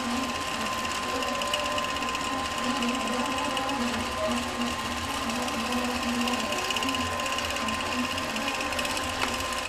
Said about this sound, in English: Now I will stitch the same part of the pattern again, but I'll turn the dwell feature off.